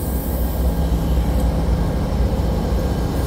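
Amtrak Coast Starlight train 14 to Seattle, hauled by two P42DC diesel locomotives, rumbles steadily at Oakland Jack London Square with a continuous low-frequency roar and no pauses.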